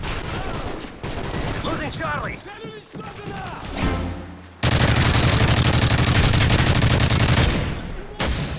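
Rapid gunfire crackles through a Modern Warfare 3 match, with scattered shots early on giving way to a loud, sustained barrage in the second half while players talk over it.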